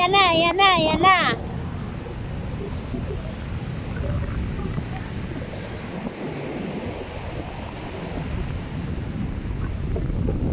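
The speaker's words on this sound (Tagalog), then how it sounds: "So windy!" Strong wind on a beach in Cancun, a loud continuous roar of gusts buffeting the microphone mixed with surf, after a brief excited voice at the start.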